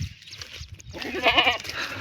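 A goat on a road bleats once, loud and close, a wavering cry after a quiet moment of faint background noise.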